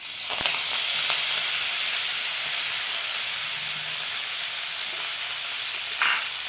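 A ground paste of garlic, ginger, coconut and coriander goes into hot oil in a pan, setting off a loud, continuous sizzle with occasional sharp stirring clicks and a brief scrape near the end.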